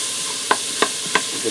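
Two large diced onions sautéing in an Instant Pot under a steady, soft sizzling hiss, with three light spoon taps against the pot spaced about a third of a second apart.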